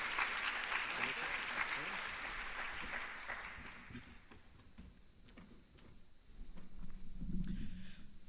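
Audience applause welcoming four speakers at a plenary session of the Shakespeare Association of America conference, a dense sustained clatter of many hands in a large hall that thins and fades into room noise and shuffling.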